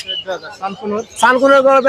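Exotic birds at a bird market chirp and call in quick, overlapping bursts, close and fairly loud, rising into a brighter sustained call toward the end.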